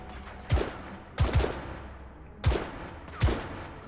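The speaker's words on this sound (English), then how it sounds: "It's really weird how this gun fires." A gun fires in The Order: 1886, four loud sharp blasts with short echoing tails spaced about a second apart, some doubled into quick pairs.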